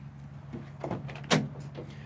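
A car door on a 1963 Chevrolet Impala opens with a soft latch click and a brief clunk, close by and fairly quiet, over faint background hum.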